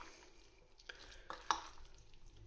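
Rice dish being mixed gently in a bowl, soft quiet scraping and stirring with a few brief clinks of a utensil against the dish, faint and close.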